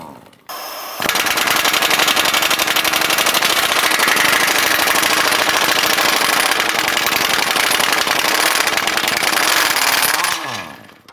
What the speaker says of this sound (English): We're going to use our 17mm socket and try and loosen that nut.